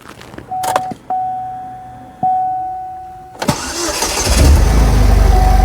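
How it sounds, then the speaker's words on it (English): A Saturn Sky car engine, which intermittently overheats, cranks and catches, then settles into a rough idle, preceded by a few clicks and a steady electronic chime. "So now I'm gonna start the engine."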